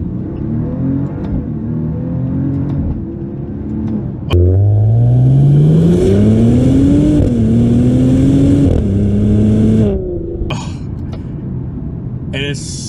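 A 2024 Maserati Ghibli Modena Ultima engine idles, then surges loudly as the car accelerates hard through several rising gear pulls before easing off, with a voice talking in the car.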